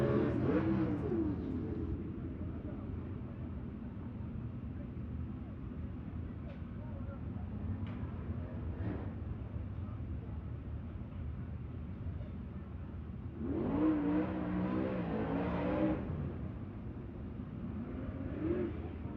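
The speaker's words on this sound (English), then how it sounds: "So we'll bring out the Jeep." A Jeep engine revving at a race track: steady motor rumble throughout, swelling into a louder rev toward the end, with a voice talking over it.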